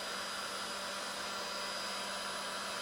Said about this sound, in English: a Work Pro, I think it's a 1200 watt, household use only heat gun